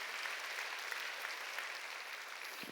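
A church congregation applauds during a Sunday service, a steady dense wash of clapping from many hands that fills the room at moderate level throughout.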